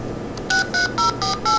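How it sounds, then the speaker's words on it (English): Touch-tone dialing tones from a PIC 12F683 bluebox, five clean dual-pitch beeps in a steady rhythm after a short quiet lead-in, loud and close with nothing else heard. "we'll hear a touch tone sequence that could be used to dial Project MF"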